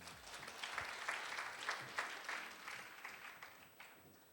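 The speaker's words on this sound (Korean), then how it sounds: "대담을 진행해 주신 각 부문 리더분들께 박수 부탁드립니다." Audience applause at a corporate investor day event in a hall, a steady spread of clapping at moderate level with no talk over it.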